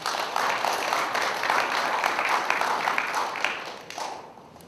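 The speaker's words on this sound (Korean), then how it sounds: "박수로 모시겠습니다" A crowd at a press conference launching a civic assembly in Gwangju claps steadily and warmly to welcome a speaker, a dense even wash of applause that fades out toward the end.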